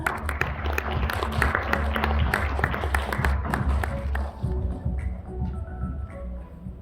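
Audience applause at a healthcare innovation forum in Korea welcoming a speaker to the stage, a dense crowd of clapping that holds strong for several seconds, then thins and fades toward the end.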